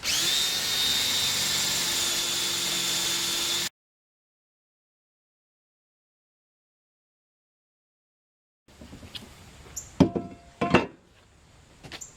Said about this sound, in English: I mark the holes and pre-drill for the legs.